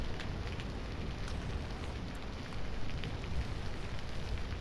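Rain in the video game Vintage Story, a steady, fairly quiet hiss of falling rain with no voices, unbroken for the whole stretch.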